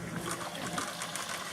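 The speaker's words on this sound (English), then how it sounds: "the pump has turned itself on. And basically, it is dumping water out of the machine." A Manitowoc QD0322A ice machine's pump drains old water out, a faint steady trickling and splashing flow with no talk.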